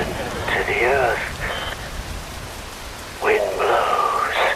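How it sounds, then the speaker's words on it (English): Steady rain hiss in the video game Metal Gear Rising, a continuous soft wash of falling water beneath a low spoken voice that talks through most of the moment. "Rain falls."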